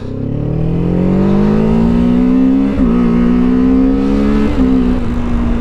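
A 2024 Kawasaki Ninja 7 Hybrid motorcycle pulls away from a stop, its engine note climbing steadily in pitch, dipping briefly at a gear change, then rising again, loud and close throughout with no talk.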